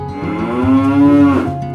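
A single long, loud cow moo, a low drawn-out lowing that holds steady for over a second before tailing off.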